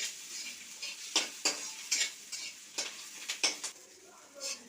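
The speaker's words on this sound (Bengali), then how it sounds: "এইগুলো ভালো করে নেড়ে নেড়ে ভেজে নেব লাল লাল করে" Crushed garlic and onion sizzle steadily in hot oil in a pan, broken by a series of sharp scraping stirs at irregular intervals, close and fairly quiet, with no talking.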